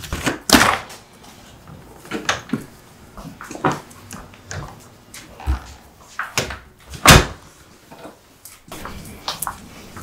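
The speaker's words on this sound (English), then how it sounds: "Is Benjamin at the door" A house door is opened for a visitor, heard as a series of sharp knocks, clunks and handling thumps spread across several seconds, fairly close and with no talk over it.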